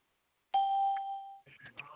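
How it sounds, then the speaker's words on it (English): A single electronic chime on a conference call rings out clearly as a caller joins, one sustained tone that fades, followed by faint background noise and brief voices. "You still hear the chimes coming in right now as we speak."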